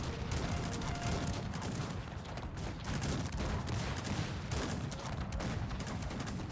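Dense, continuous barrage of booming cannon fire in the video game Cossacks 3, blasts overlapping without pause at a steady loud level.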